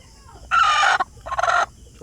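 Brooding hens in a backyard clucking in two short, loud bursts close by, the second broken into a quick stuttering run, with quiet yard noise between them.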